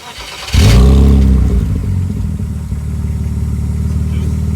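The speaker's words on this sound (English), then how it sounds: "This is what the car sounds like now." A BMW E46 with a modified exhaust starts up and revs hard, then settles into a loud, throaty, uneven idle close by.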